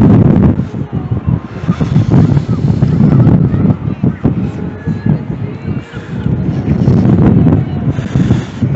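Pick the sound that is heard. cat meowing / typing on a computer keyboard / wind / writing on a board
wind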